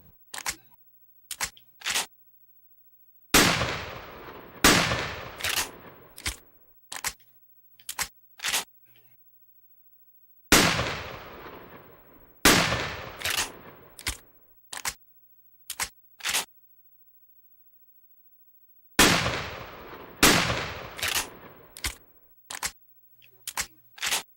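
Video game gunfire at shooting-range targets comes in repeated volleys: sharp separate shots, then louder bursts with decaying tails, each group broken by brief silence.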